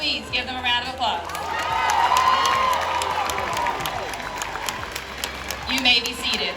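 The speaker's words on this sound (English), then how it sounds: "Please give them a round of applause." Audience applause at a high school graduation ceremony, a sustained wash of clapping and crowd noise with some cheering and chatter, swelling in the middle and tapering at the end.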